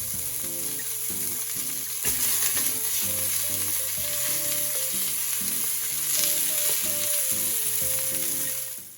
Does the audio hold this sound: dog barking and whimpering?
no